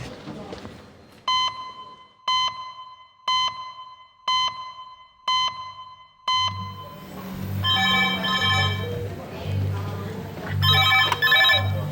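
The red HEMS telephone rings in a King's hospital A&E department: six evenly spaced bright rings sound alone, then people talk over continuing ward noise.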